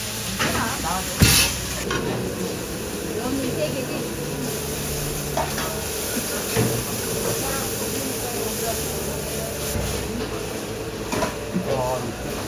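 Busy Korean jjajang restaurant kitchen with steady sizzling and stirring over hot burners, a continuous hiss of frying and steam running throughout, with occasional clanks and people talking nearby.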